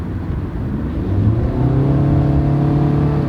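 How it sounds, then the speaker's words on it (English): Car with a 2.5 liter engine accelerating hard, a loud, close engine drone climbing steadily in pitch as it revs up through the gear, heard alone without speech. "Decent acceleration."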